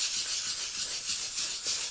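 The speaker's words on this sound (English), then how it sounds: "Just some fine sandpaper, anywhere from 600 to 1000 grit should be fine. And just gonna wet sand everything." Steady close rubbing hiss of fine 600 to 1000 grit sandpaper wet sanding painted parts of a 1940s Preway P4522 stove, continuous strokes with slight rhythmic swells and no talk.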